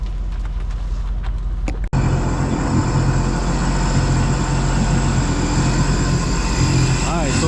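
A Sea-Doo RXT 260 personal watercraft engine runs steadily after a brief stop, a loud continuous drone close by with a low throb and slight pitch shifts near the end.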